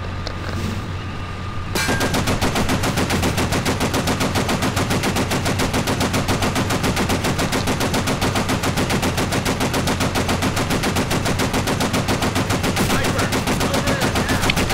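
A machine gun fires in a video game, a long unbroken stream of rapid, evenly spaced shots starting after a brief quiet moment and continuing loud and close to the end.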